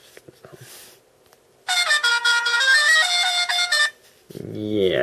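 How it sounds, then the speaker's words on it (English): A phone app on an HTC Desire plays a blaring air horn blast lasting a couple of seconds, loud and close, with brief talk around it. "I'm just going to show you one now, which is the air horn, which goes..."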